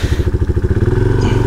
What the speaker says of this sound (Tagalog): gamit natin motor ngayon mga behero, itong Rusi Classic 250 Fi